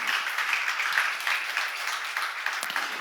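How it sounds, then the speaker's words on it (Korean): Sustained applause from a crowd, a dense patter of many hands clapping at an even level for a few seconds. "박수로 하도록 바란다."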